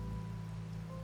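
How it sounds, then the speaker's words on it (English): Steady rain hisses through a video game scene, soft and even, under a low sustained musical hum. "The rain's back."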